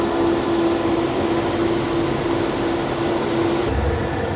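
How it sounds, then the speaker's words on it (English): Interior of a moving train's cargo-style railroad car, a steady loud rumble and rocking roar with a constant hum throughout, with no voices. "This train is actually hard to stand on."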